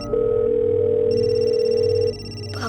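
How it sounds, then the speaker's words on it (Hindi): A steady electronic telephone tone sounds for about two seconds, then cuts off, leaving a quiet room with a brief rustle at the end. "लेकिन फोन तो आपके रूम में बज रहा है।"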